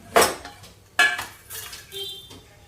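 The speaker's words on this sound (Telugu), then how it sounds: "తాలింపు వేస్తున్నానండి" Spices go into a metal pan for tempering an okra tamarind stew: a few sharp clanks of utensil on pan, a brief sizzle, and softer scraping knocks, close by with no talk.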